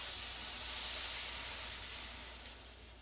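Beef broth poured into a hot pan for stroganoff: a close, steady broadband hiss and sizzle that holds for about three seconds and slowly fades, with no talk.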